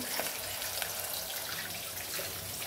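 Tap water runs steadily into a sink as pots are washed in a home kitchen, a continuous close, moderately loud hiss and splash with no talking.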